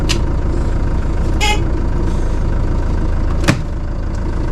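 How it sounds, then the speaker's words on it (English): An ice cream van horn gives a few short toots over the steady drone of its idling engine, close and fairly loud. "This has got one of them horns on it"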